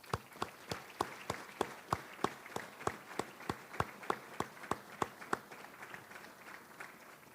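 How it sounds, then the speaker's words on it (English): Award recipients at a February 2025 awards ceremony are greeted by clapping: sharp, evenly spaced claps in a steady rhythm, fairly close and clear, thinning out and fading near the end. "Please join me in one final round of applause for this year's awards"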